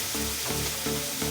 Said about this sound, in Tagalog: hinala natin itong ating tokwa at yung ating tause o black beans